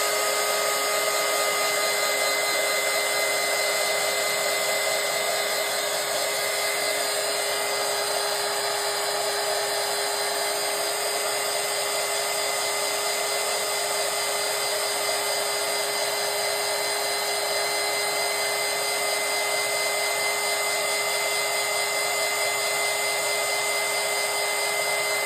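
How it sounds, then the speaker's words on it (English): Heat gun flash-drying a coat of Createx candy paint on a fishing lure, a loud steady blowing roar with a constant whine that runs unbroken throughout. "So let me heat flash this real quick."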